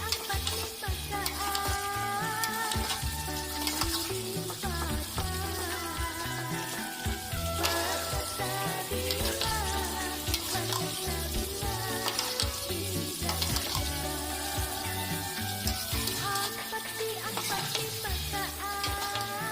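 Spiced mixture sizzles steadily in a frying pan while being stirred for kareh tarung, a Banjar eggplant curry, with continuous crackling and scraping throughout and no talk.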